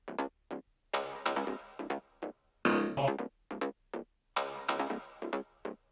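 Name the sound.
grid synths groove from an electronic track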